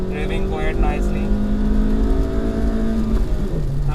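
A 2020 Hyundai Venue 1.2 petrol engine drones at about 6200 RPM in second gear, steady and strong from inside the vehicle, with someone talking over it.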